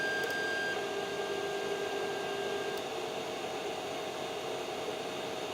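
Creality CR-10S 3D printer fitted with stepper dampers auto-homing, giving a steady mechanical whir with a thin high whine held at a constant level throughout, close and alone.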